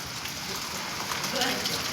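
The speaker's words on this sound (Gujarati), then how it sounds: "વરસાદની સાથે કરા પણ પડી રહ્યા છે" Hail and rain pour down together during a storm at Gundala Jas village, Vinchhiya, Rajkot district, making a dense, steady, close hiss that never lets up across the whole stretch.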